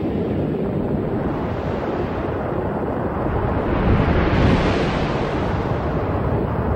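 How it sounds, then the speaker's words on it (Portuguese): Jupiter's bow shock rendered as electronic data, a steady broad wind-like roar that swells slightly louder midway and carries on without pause or voices. "a primeira coisa que elas encontraram foi o choque em arco do planeta gigante, que produz um som como o vento nos dados eletrônicos"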